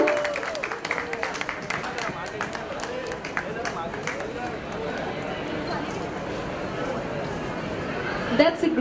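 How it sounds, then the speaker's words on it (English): Audience clapping at a school event during the Beautiful City Campaign: a dense, steady patter of many hands mixed with crowd chatter and voices, holding up for the whole stretch with a brief louder swell near the end. "Can we have a huge round of applause for this special moment, everyone?"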